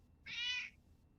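A single short cat meow, clear and fairly close, rings out once against a quiet background during an indoor discussion, with no talking over it.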